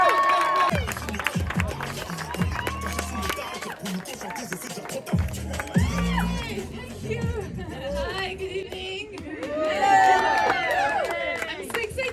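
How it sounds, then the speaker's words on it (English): A stand-up comedy crowd in Los Angeles applauds and cheers as a comedian takes the stage; clapping, whoops and shouts swell and fade over about twelve seconds, with voices ringing out above the noise. "clap it up for the one and only Rosa Bursztein, everybody"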